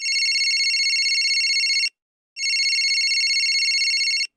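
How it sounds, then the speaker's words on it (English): A phone rings in two long electronic trilling bursts separated by a short pause, clear and loud with nothing else behind it. "Suddenly, my phone rang."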